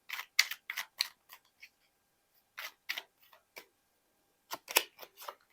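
A tarot card is drawn from a deck, with crisp papery flicks and shuffling snaps in quick clusters separated by brief silences, close and soft, without any talk.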